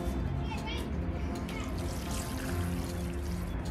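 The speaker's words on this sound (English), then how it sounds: "Add a little bit of water." Water poured into a container planting pot of purple top verbena and lemon balm, a steady trickling splash running continuously at close range with no voices.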